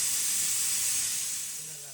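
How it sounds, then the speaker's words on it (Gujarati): Pressure cooker releasing steam after cooking palak khichdi, a steady close hiss that slowly fades over two seconds. "પછી આપણે કુકરની હવા કાઢી નાખવાની"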